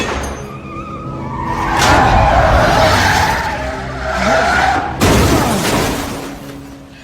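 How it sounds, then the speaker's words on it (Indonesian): A film car chase where one car is rammed at high speed into another: loud roaring engines and screeching, skidding tires swell over several seconds, then a sudden heavy crash impact hits near the end, with no talk. "pria bergitar itu tiba-tiba menabrakkan mobilnya ke mobil Frank dengan kecepatan tinggi"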